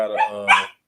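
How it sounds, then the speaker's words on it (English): A dog barks and yips in a quick burst of excited, fairly close calls, followed by a brief pause and another starting bark. "that's my dog going off right now in the background."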